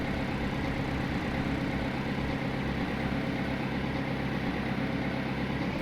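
A tractor with a very sharp steering angle idles steadily in a farming video game, a continuous low rumbling drone with no voices.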